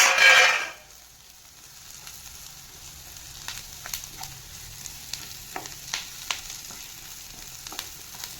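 Onion and drumstick leaves sauté in a pan, a faint low sizzle with scattered light stirring clicks, close but quiet after a brief louder burst at the start.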